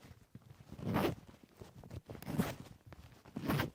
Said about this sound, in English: It's literally just a regular YKK zipper.